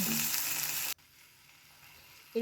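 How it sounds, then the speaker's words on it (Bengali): Turmeric masala sizzles as it sautés with meat in a pan for a cabbage dish, a loud hiss lasting about a second before cutting to near quiet. "তারপর হলুদ গুঁড়ো সব কিছু দিয়ে মশলাটাকে বেশ ভালো করে কষাতে হবে।"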